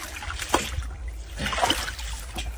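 Water trickles and splashes in short bursts as a freshly caught topmouth culter fish is rinsed by hand at a netting spot, close and soft with light sloshing.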